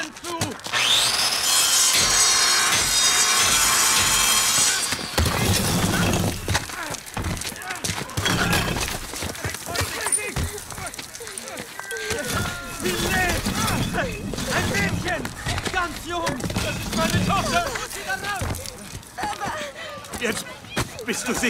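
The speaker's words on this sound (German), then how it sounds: "Die Trümmer müssen weg. Bring die Säge." A saw cuts through rubble to free a trapped child in the Modern Warfare video game, a loud rasping bout of rapid strokes at first, then scraping, crumbling debris beneath frequent urgent speech.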